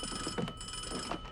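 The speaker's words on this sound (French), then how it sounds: "Téléphone." A telephone rings aboard a ship in a film scene, a steady electronic ring at moderate level over a faint background, with no talk during the ringing.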